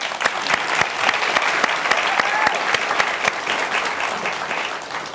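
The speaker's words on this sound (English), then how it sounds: "they're going to clap at everything" Studio audience applauding steadily during a 1996 talk-show interview, a dense patter of many hands that stays fairly loud and even throughout, with a voice briefly heard near the middle.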